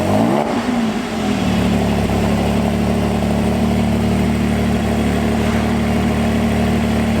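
A Porsche GT4 engine through a new Milltek exhaust settles into a loud, deep, steady drone close by after a brief rev at the start.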